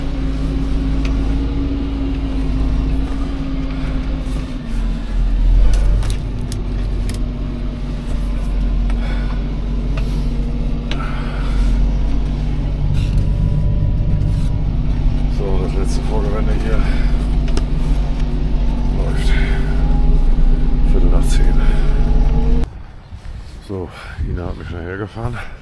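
A tractor engine drones steadily as the machine drives, a loud constant low rumble under frequent talk, which cuts off near the end, leaving quieter sounds.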